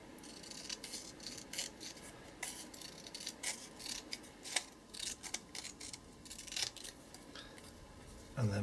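Paper being cut by hand with scissors while trimming a moodboard piece, a steady run of close, crisp snips and slicing strokes at an irregular rhythm, with a louder rustle at the very end.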